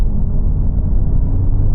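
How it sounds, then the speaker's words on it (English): A Honda Civic Type R pulls from 40 to 70 mph in fourth gear, heard as a dense, steady low engine and road rumble from inside the car, loud and unbroken. "see what it's like accelerating from 40 up to 70 in a 4th gear roll on"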